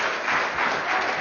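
Audience applause at a public hearing, a short burst of dense, fairly faint clapping from a crowd in a hall.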